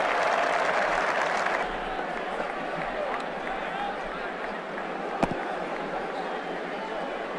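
Broad crowd applause and cheering in the cricket video game Brian Lara Cricket 2007, fairly loud at first then settling into a steady wash, with commentary-style talking over it.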